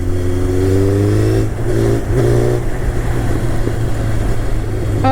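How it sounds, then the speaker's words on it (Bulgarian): A small motorcycle engine buzzes near at hand, revving in short rising bursts and easing off between them, over a constant loud engine drone. "Любимото мотоциклетче на Никмото"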